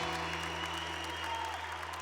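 Church congregation clapping during a Catholic youth service, a soft continuous wash of many hands heard at a distance in a reverberant space over a steady low hum, with no speech.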